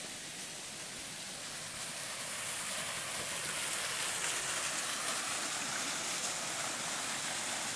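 Small waterfall in a quarry area, a steady broadband rush of falling water that swells slightly partway through and holds close and loud throughout, with no voices.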